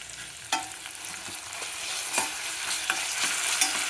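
Ginger garlic paste stirred and frying in a pan for corn pulao, a steady broadband sizzle with several sharp scrape clicks from the spoon at irregular intervals, close and moderately loud, with no talking.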